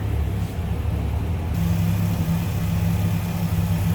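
A 2004 Dodge Ram SRT-10's 8.3-liter V10 idles with a deep, steady rumble, continuous and throaty, the low hum growing slightly fuller partway through; no voices.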